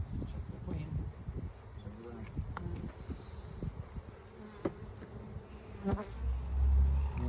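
Honey bees buzz around an opened hive, a soft continuous droning hum near the listener, with rustling handling noises, scattered knocks and faint low voices mixed in.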